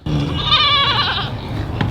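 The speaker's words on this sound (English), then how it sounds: "Listen how loud these goats are." Several goats on a farm bleating loudly and close by, a long wavering cry lasting over a second followed by a shorter bleat near the end.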